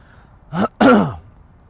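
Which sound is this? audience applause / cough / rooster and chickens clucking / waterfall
cough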